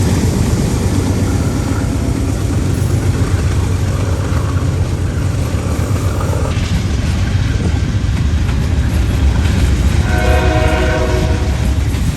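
Freight train number 179 carrying miscellaneous freight on the Big Four route, rumbling loudly past close by with a continuous roar and clatter, its horn sounding briefly near the end.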